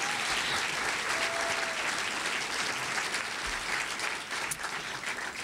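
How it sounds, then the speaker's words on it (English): An audience at a media awards ceremony applauds steadily with dense, sustained clapping that fills the room and holds at an even level throughout, with no voices rising above it. "we can give them a round of applause now."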